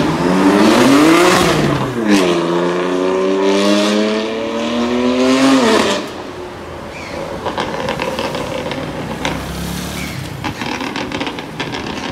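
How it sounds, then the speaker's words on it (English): A Toyota Supra on a Cape Town street revs loudly as it goes by. The engine note climbs through rising gear sweeps, then drops into a rougher, fading rumble as the car moves away. "And there goes the Supra."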